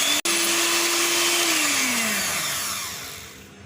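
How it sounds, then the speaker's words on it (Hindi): An electric hand beater whirs steadily at slow speed through eggs and vanilla essence, a loud close motor hum that starts abruptly and slowly fades, with no talking. "स्लो स्पीड पे 1 मिनट के लिए इसको बीट करेंगे"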